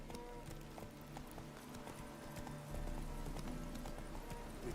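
Roach the horse gallops in The Witcher 3, hooves clip-clopping in a rapid steady rhythm under a bed of game music and ambience, moderately quiet.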